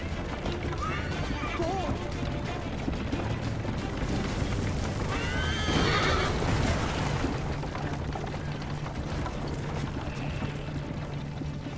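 In Assassin's Creed Liberation, a horse whinnies amid game noise, with hoof clops and mechanical clatter, a short neigh mid-clip under music and voices.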